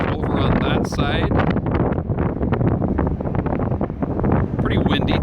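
Strong wind buffets the microphone on the Oregon side of the Columbia River, a loud continuous rumbling roar with gusty bursts, and a voice speaks briefly over it.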